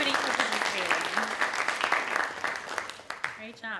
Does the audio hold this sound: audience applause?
yes